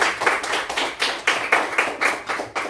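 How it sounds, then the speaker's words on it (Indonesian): A classroom of students claps for a classmate in brisk rhythmic unison, about four even bursts per second, close and clear with no talking. "tepuk tangan untuk Apriana"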